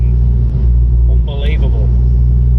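A Ford Focus RS MK2 exhaust drones loud and steady under acceleration, a deep continuous rumble that fills the whole clip, while a voice talks briefly in the middle.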